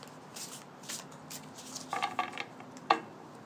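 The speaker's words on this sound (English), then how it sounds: "So let me shuffle these." A deck of tarot cards is shuffled by hand, giving soft, quiet riffling and light slaps in short bursts, with a sharper snap near the end.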